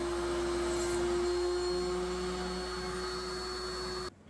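A router mounted in a router table cutting wood for a 4-foot bench, a steady loud motor whine held evenly throughout, then cut off abruptly at the end.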